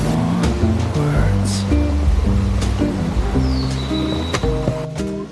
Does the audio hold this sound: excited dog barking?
no